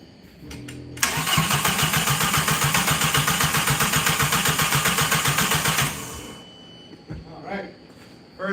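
A car engine cranks steadily for about five seconds in a fast, even rhythmic churn, loud and close, then stops with a few faint sounds and a brief voice after.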